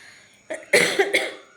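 A single person coughs a few times in quick succession, close and fairly loud, after a brief quiet moment.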